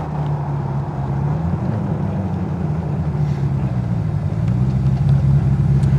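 A Rover V8 engine in a Westfield sports car idling, a steady low burbling rumble held close and continuous for several seconds, growing slightly louder toward the end, with no talking.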